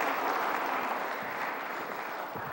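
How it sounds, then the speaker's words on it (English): A crowd applauds a couple being called up on stage, producing dense, continuous clapping at an even level that tapers slightly near the end. "Give them a round of applause"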